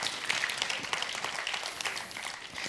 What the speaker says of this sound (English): Give him an applause as well.